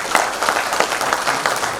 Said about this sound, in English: I think they deserve a round of applause, very big round of applause.